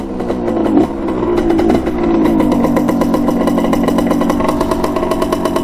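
The two-stroke engine of a restored 1987 Honda CR80 dirt bike runs close by, buzzing with a raspy revving note that dips, then holds a steady high idle.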